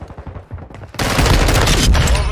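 Sustained M4 rifle fire in Modern Warfare 2, a dense, loud burst of rapid shots that starts abruptly after a second of quieter game sounds and continues steadily to the end.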